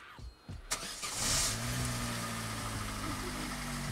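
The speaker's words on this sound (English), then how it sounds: "So I'm going to give it a crank." A Vauxhall Corsa C engine, just fitted with a new fuel filter, cranks in a few quick turns, then catches and settles into a steady, close idle, with no talk over it.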